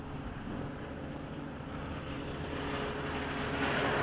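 An F-15 jet is pushed to full throttle during an evening flight, giving a broad, steady engine roar that builds slightly louder toward the end.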